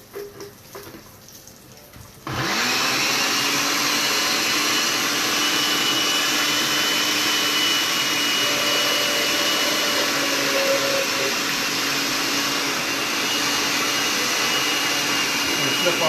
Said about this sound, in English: You just want it to be blended up so it comes together